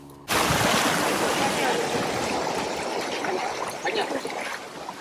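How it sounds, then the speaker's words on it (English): A small river in Chocó, Colombia rushes and babbles close by, a dense steady wash of flowing water that starts abruptly and continues without a break. "What a beautiful little river."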